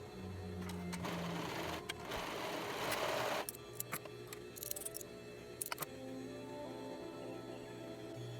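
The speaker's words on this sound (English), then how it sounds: "I'm going to go ahead and run it through my serger just to make sure the insides are going to be all nice and neat" A serger overlock machine sews the cuff of a doll sweater, running in a steady fast whirring burst, then stopping into a series of light clicks and taps.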